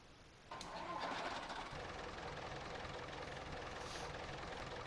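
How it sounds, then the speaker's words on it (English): A small tractor's engine cranks and catches after a half-second, then settles into a steady, loud rumbling idle that continues without a break. "let you guys listen to this tractor start up."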